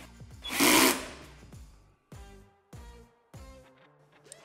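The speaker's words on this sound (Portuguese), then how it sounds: "vou usar uma parafusadeira da VAP aqui" A WAP cordless power screwdriver drives screws while assembling a WAP Ousada WL 260 pressure washer, one longer whirring run followed by three short, sharp bursts with brief silences between them, heard alone.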